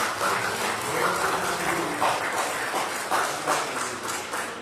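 A church congregation applauds during a Sunday morning service, a dense, steady wash of clapping that holds at an even level throughout without a clear break.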